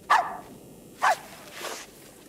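A corgi in the video game Arizona Sunshine 2 barks twice in close, sharp yelps about a second apart, followed by a softer third sound.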